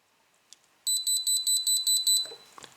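Foxeer Legend 2 action camera beeping as it shuts down: a run of seven evenly spaced, clear electronic beeps, close and loud over near silence, followed by a couple of faint handling clicks.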